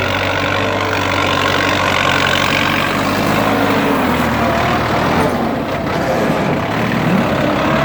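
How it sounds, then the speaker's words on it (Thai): A Ford 6610 farm tractor engine runs loud and close, a steady heavy diesel drone with a slight shift in pitch partway through, with no talking. "จะพาพี่น้องมาเบิ้งรถไถนาฟอร์ดครับ"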